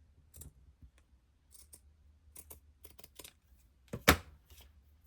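Fabric scissors snip through cloth in a handful of sharp, separate cuts spaced across the moment, with one louder close snip near the end and quiet pauses between.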